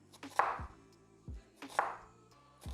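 A knife cuts through a quesadilla on a cutting board in two quick strokes, each a crisp crunch of toasted tortilla ending in a dull thud against the board, with a short pause between them and no talking.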